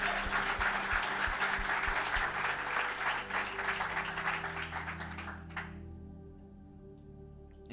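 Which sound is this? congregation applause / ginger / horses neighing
congregation applause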